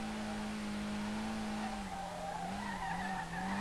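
A Nissan R32 drifting at Ebisu in the SLRR racing game, with a long, sustained tire squeal over a steady engine hum that wavers in pitch as the slide continues.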